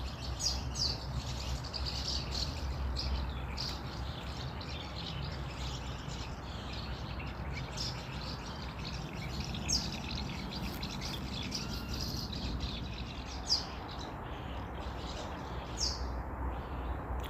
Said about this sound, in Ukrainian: Чуєте, як пташечки співають.